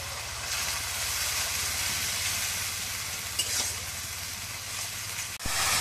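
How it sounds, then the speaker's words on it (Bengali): Red lentils and egg stirred and fried in oil make a loud, continuous sizzle close by, with a soft scrape of the stirring spoon partway through. "চালাই দিই তেলের মধ্যে দিয়ে কষানো করে দিই"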